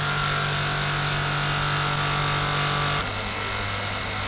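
A small spray machine runs steadily as it washes foam off a scooter, a loud continuous motor drone with hiss that drops slightly in pitch and level about three seconds in, then carries on.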